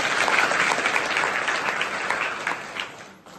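Enthusiastic audience applause for anganwadi workers and their helpers at a nutrition campaign event in Warud, Maharashtra: a dense, loud burst of many hands clapping, steady then gradually tapering off.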